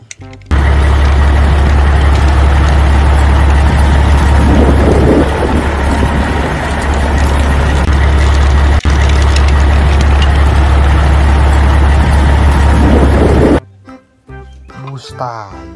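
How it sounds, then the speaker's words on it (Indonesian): A construction truck engine drones loud and steady close by with a heavy low rumble, then stops abruptly near the end. "Ada mobil truk konstruksi."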